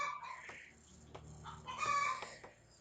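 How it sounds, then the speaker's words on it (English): A chicken clucks loudly nearby in a few irregular bursts, with a steady low background hum underneath. "and that chicken is very loud."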